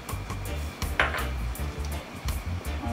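Green peas are tipped into cooking veggie risotto in a pan, with a spoon scraping and clinking against the pan over a low steady sizzle, close and alone.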